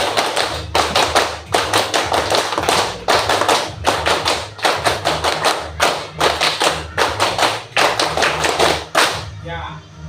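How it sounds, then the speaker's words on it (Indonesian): Indonesian scout clap done three times over by schoolchildren in a classroom, a long run of rhythmic group claps and thumps in repeated patterned bursts, close and loud, ending with a brief voice at the close. "Tepuk pramuka 3 kali."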